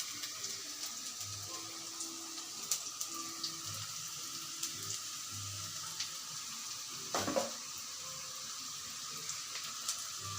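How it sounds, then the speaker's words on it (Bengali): Onions and green chilies sizzle in hot oil in a pan, a steady soft hiss of frying throughout with a few faint clinks and a brief louder splutter partway through. "এখন আমি এখানে কাঁচামরিচ আর পেঁয়াজ দিয়ে দেব। পেঁয়াজগুলো একটু হালকা লাল করে ভেজে নেব।"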